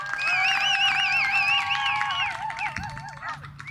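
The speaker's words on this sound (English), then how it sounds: "Let's have a big round of applause for Radical." Spectators cheer for the agility dog Radical Rabbit at a national dog agility championship, with warbling whoops and whistles riding over a steady crowd roar that fades slightly toward the end.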